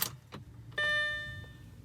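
An Audi A4 is switched on at night, with a soft click and then a steady electronic chime tone that holds and fades in a quiet cabin.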